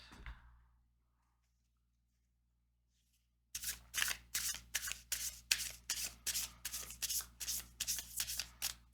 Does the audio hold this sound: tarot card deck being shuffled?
yes